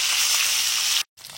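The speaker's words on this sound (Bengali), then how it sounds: "তো আমি মাছ ভাজার জন্য তেল দিয়ে দিচ্ছি, আর তেলটা গরম হয়ে গেছে।" Fish sizzles loudly in hot cooking oil, a dense, steady hiss that cuts off abruptly for a moment before resuming more quietly.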